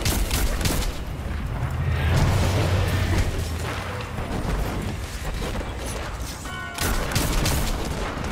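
Gunfire in the video game Destiny 2: Shadowkeep, loud booming shots and bursts crowding over a busy, noisy battle mix with a short lull near the end.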